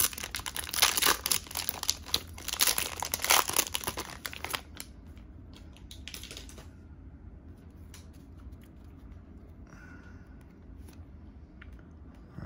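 Wrappers of 2022 Topps Series 2 baseball card packs being ripped open and crinkled up close, a busy stretch of tearing and rustling that fades into quiet handling and faint rustles.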